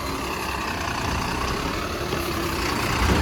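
A car pulls out of a parking spot near a busy beach road. A steady engine rumble runs throughout and grows slightly louder toward the end, with no talking.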